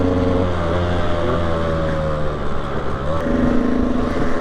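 The engine of a KTM 125 EXC motorcycle revs loudly and continuously close by, its buzzing tone holding steady, dipping briefly, then climbing again near the end.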